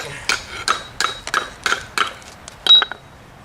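A hammer trims masonry stones for steps with a steady series of about nine sharp, ringing strikes, close and loud, each with a brief metallic ring.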